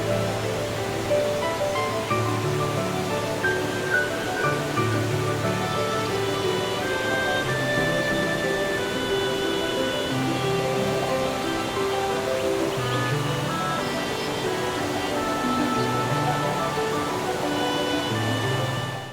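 Steady rushing water from a waterfall beside a serene cliffside lake area in Little Dragons Café, a continuous broad wash of noise that stays constant throughout, mixed with a calm melodic game music track playing over it.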